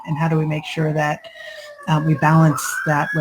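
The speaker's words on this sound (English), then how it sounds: "you've got sirens because I'm in New York." A city siren wails steadily in the background in New York, a rising and falling tone running beneath a person speaking in the foreground.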